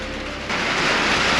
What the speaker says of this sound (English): This is what the rain should look like.